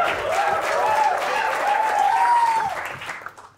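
An audience claps at a Marathi comedy show, a short dense burst of applause that fades out at the end, with a voice faintly audible over it.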